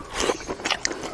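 Close crunchy chewing of charcoal-baked giant conch meat dipped in vinegar, a few crisp bites and mouth clicks over about a second, with no talk.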